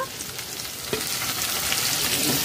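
Fried chicken goes into a sizzling cashew-paste gravy for dahi chicken, and a constant, close frying hiss follows with a brief knock as the pieces drop in.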